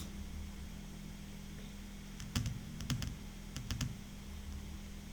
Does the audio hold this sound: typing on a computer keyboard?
yes